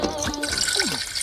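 A cartoon drinking effect as a character gulps goldfish water: bubbly, watery gurgles and drips with pitch-sliding glugs, close and fairly loud, lasting just over a second.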